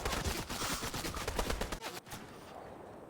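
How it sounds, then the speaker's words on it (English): Rapid bursts of gunfire in the video game Fortnite crackle densely and continuously, then cut off sharply, leaving a fainter tail of distant shots. "I can see gunfire all over the place"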